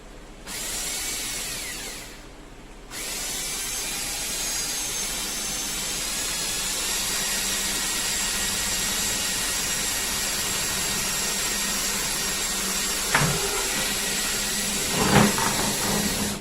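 A steady, loud whirring drone of a power drill boring a hole for a water-filter spigot runs almost continuously, dipping briefly near the start, with a couple of sharp knocks toward the end.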